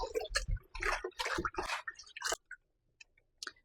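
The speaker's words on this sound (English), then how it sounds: "Now I'm going to wash the callaloo with salt," Callaloo leaves being washed by hand in cold salted water, splashing and sloshing in quick bursts that stop, followed by a few faint drips and taps.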